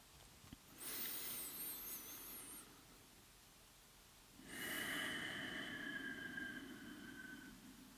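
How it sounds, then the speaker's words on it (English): Deep, slow breathing in and out through the nose during a calming breathing exercise: two long, close breaths, one inhale and one exhale, each carrying a soft airy rush with a faint whistling nasal tone, separated by a quiet pause. "just take some deep breaths in and out through the nose"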